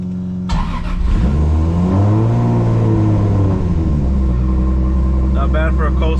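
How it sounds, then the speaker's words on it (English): A 1000+ hp Toyota Supra MK4 engine idles roughly after a cold startup on a chilly day, then revs up and settles back, loud and close, a deep steady rumble with a brief rising and falling rev. "Not bad for a cold startup, huh?"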